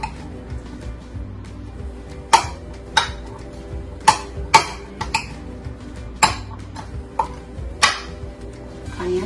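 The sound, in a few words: mixing salad ingredients together in a bowl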